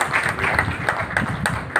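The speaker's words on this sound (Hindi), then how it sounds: "जोरदार तालियों से स्वागत करें भैया" Audience applause at a BJP party workshop in a hall, with brisk, dense clapping throughout and a few sharper claps standing out, and faint voices mixed in.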